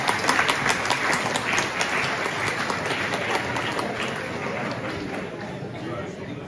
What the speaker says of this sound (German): einen großen Applaus für Annalena bitte